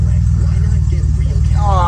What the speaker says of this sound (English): Oh, and it's idling beautifully.